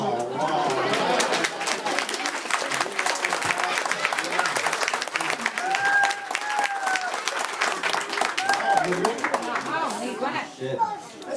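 A graduation ceremony audience claps in a sustained round of applause, with voices talking and cheering over the clapping throughout.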